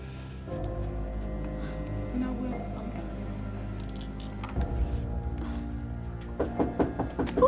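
Someone knocks on a door in a dramatic film scene: a single thud, then a burst of quick, increasingly loud raps near the end, over a low, steady music bed.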